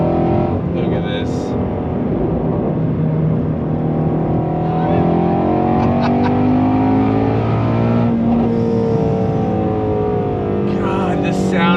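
A Shelby GT350R V8 from 2020 revs hard on throttle in a steady, loud engine roar that rises and falls in pitch throughout, with someone talking over it.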